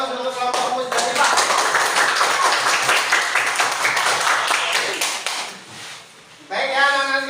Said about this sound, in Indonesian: kita kasih aplaus untuk kelompok Musdalifah